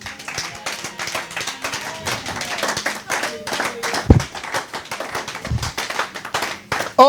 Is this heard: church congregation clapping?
yes